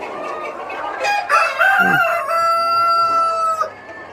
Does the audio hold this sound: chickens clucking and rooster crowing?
yes